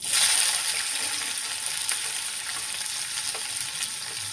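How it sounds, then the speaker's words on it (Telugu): Chopped onion drops into hot oil that already holds popping mustard seeds, a steady bright sizzle that starts loudest and then settles into a continuous crackling hiss, with a few faint clicks and no voices. "ఒక పెద్ద సైజు ఉల్లిపాయ కట్ చేసి ఉంచుకున్నాము, అది వేసేద్దాం."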